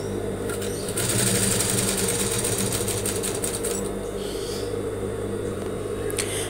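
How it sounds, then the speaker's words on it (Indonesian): Sewing machine stitching a sailor collar, running steadily and loudly throughout with a continuous rapid mechanical whir and rattle, no pauses. "Kita jahit ya sampai selesai."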